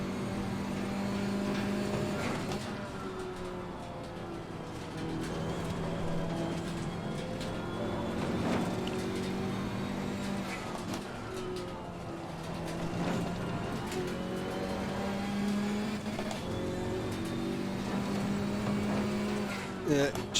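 A GT4 race car engine in Assetto Corsa Competizione drones and revs continuously, pitch climbing and dropping through gear changes, with a voice talking over it.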